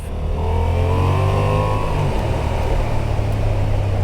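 A Honda XL750 Transalp motorcycle pulling away with traction control and ABS switched off, its engine note rising steadily and then holding a loud, continuous drone with wind rush, heard up close.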